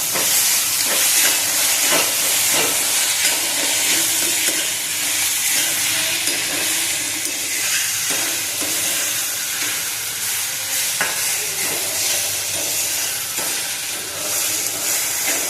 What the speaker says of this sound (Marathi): आता याच्यामध्ये आपण टॅमॅटो ॲड करूया एक टॅमॅटो बारीक चिरून घेतलेला आहे तो ॲड करून परतून घ्यायचा